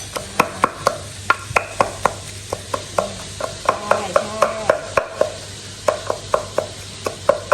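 Dried mackerel pounded into chili paste in a mortar, a steady run of sharp, close thuds repeating at a brisk, fairly even rhythm with no talking.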